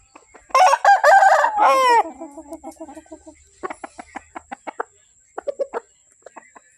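A Burmese fighting cock lets out one loud, close crow, followed by softer, quicker clucking and chattering from the caged birds.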